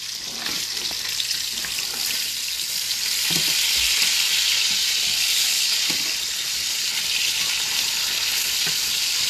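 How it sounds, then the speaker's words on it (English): Bacon sizzles and crackles steadily in a hot pan while ribs are being cooked, a dense, loud frying hiss with occasional sharper pops and scrapes as strips are flipped, no voices over it. "Flip our bacons."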